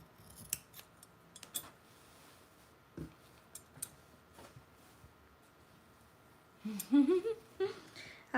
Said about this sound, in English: The sound of scissors against fabric is always my favorite.